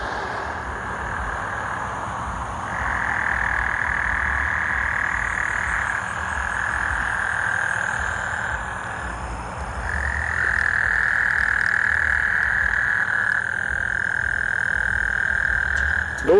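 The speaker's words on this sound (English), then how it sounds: "y'all hear all those frogs" Frogs croaking loudly outdoors at night: a dense, continuous chorus of high trilling calls that swells and dips in waves, with a low rumble of distant traffic beneath.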